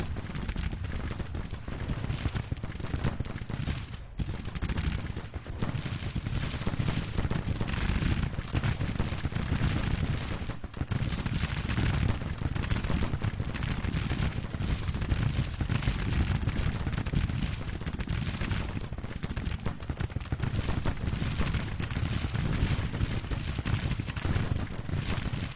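Dense, continuous musket volleys and booming artillery fire from a Civil War battle in the strategy game Grand Tactician roll on without pause for about 25 seconds, loud and layered with no talk over them.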